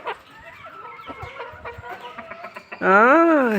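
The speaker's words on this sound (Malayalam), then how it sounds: "ഇതാ ഇവരാണ് നമ്മുടെ നാടൻ കോഴികൾ" Native country chickens, hens and a rooster, cluck close by on a farm in a busy run of short calls, ending with one loud, drawn-out squawk.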